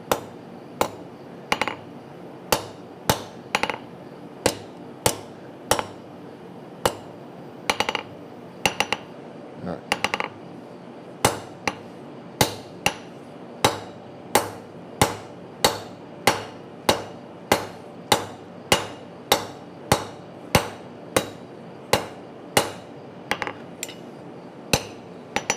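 A hand hammer strikes hot metal on an anvil in a long series of sharp, ringing blows, some in quick pairs and others spaced apart, loud and close.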